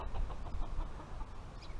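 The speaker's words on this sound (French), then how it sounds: "Et vous voyez, il y a un petit coq Pékin" A small Pekin bantam rooster clucking softly among farm birds, low and close, in short repeated bursts over a steady murmur of background noise.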